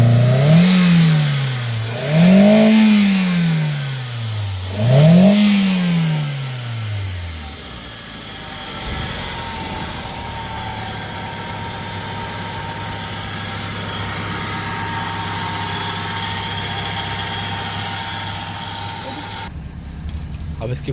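A Hyundai car engine revs in three rising-and-falling surges, then drops to a steady, even idle, heard close with no talk over it.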